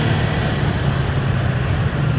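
Steady road traffic near a shopping mall in Manila, a continuous low rumble of cars and other vehicles close by, with no voices.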